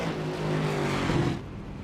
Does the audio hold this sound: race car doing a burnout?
yes